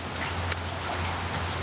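Steady rain falls during a wet California winter, a dense, even hiss of drops striking surfaces with no talk over it.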